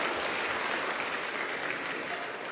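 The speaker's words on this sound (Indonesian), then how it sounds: "Tepuk tangan dulu kasih bapak-bapak." Steady applause from a church congregation during a Christmas sermon, dense even clapping that fills the room without pause.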